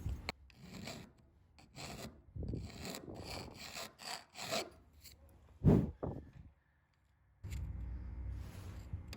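A hand file scrapes back and forth across aluminum in uneven, rasping strokes, close and fairly loud, pausing briefly to near silence before a steadier stretch of rubbing resumes.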